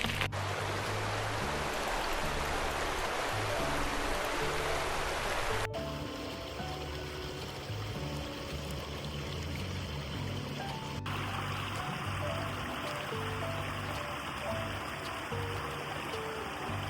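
A small river at a campground rushes and gurgles over rocks in a loud, constant wash of water, heard alone throughout.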